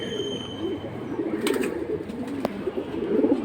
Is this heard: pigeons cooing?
yes